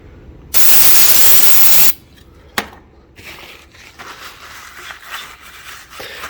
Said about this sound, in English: So I'll just give it a spray down and a wipe.